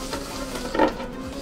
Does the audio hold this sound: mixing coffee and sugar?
yes